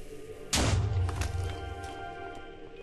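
A single deep booming thud from a bomb exploding in a Minecraft AdventureCraft Zelda adventure map bursts out suddenly and rumbles away over a couple of seconds.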